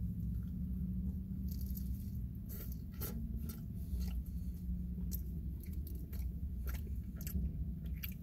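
Someone bites into and chews a Taco Bell spicy double steak grilled cheese burrito. Soft crunches and wet squishy chewing come close to the mic in an irregular rhythm over faint low background hum.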